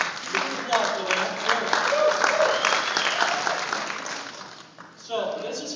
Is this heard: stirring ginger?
no